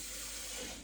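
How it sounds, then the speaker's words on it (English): Tap water runs steadily into dishes in a kitchen sink, a continuous broadband hiss and splash at moderate level with no voices. "I am filling up those dishes with water because I'm going to wash them in just a second"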